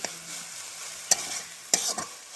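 Moringa leaves drying in a pan are stirred with a spoon, giving a few sharp scrapes and clicks over a soft dry rustle, close by with no speech.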